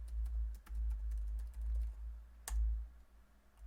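Typing on a computer keyboard while entering an Excel formula, a few light, scattered key clicks with one sharper tap, quiet and close over a low background hum.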